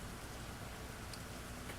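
Steady rain falls continuously outdoors, a faint, even hiss of drops on surfaces with no voices over it.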